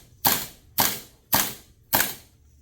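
A CoolFire SideKick recoil trainer fitted to an AR-15 cycles its reciprocating bolt four times, each a sharp, loud, close snap with a short decaying tail, evenly spaced about half a second apart.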